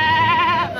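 A goat bleats in one loud, wavering cry close by as it is loaded for transport to a Qurbani sale.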